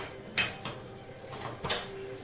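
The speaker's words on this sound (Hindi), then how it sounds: "लगा दिया कुकर का ढक्कन।" A pressure cooker lid is fitted and closed in a home kitchen while rice cooks, giving several short metallic clacks and scrapes spaced irregularly over a quiet background.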